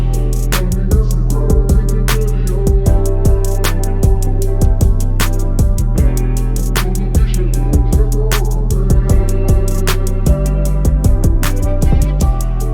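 A hip-hop beat hook loops with piano chords, deep bass, steady ticking hi-hats and punchy layered snares on the backbeat, loud and continuous throughout with no voices.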